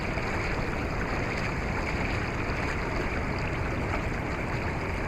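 Steady broadband rush of a river current flowing past a small boat, continuous and fairly loud with no pauses or voices.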